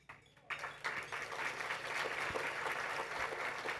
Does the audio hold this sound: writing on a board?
no